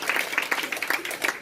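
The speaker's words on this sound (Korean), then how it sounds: "박수 감사합니다" Brief burst of audience clapping at a motivational success-story talk, a short, fairly loud patter of hands from a small crowd.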